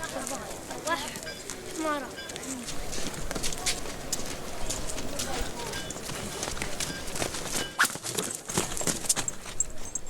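Small donkey hooves clip-clop at the Petra archaeological site, a steady trotting patter under busy background voices and crowd noise.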